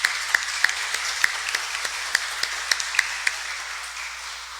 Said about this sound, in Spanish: Allí los tenemos y les damos el aplauso.